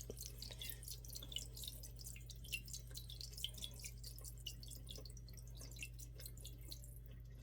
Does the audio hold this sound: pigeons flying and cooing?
no